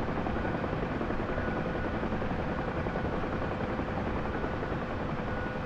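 A Huey helicopter in a video game flies with a constant thick rotor drone and a broad engine rumble, steady and loud from start to finish, with no voices.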